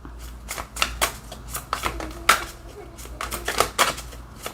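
Tarot cards shuffled by hand in quick, irregular riffles and slaps, close and crisp, a dozen or so bursts with brief gaps between.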